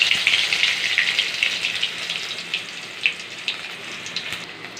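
Chopped garlic dropped into hot oil in a kadai, giving a bright, crackling sizzle that is strongest at first and settles into scattered pops.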